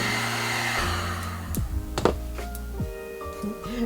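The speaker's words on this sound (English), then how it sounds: "It's just giving little pop, pop, pop sounds." Pops and clicks from freshly re-glazed pottery frothing as it fires in a manual kiln, a few sharp snaps scattered over a steady loud roar of burner heat.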